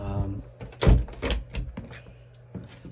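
An Adria Coral caravan door is shut with a single solid thump partway through, under a person's nearby voice talking.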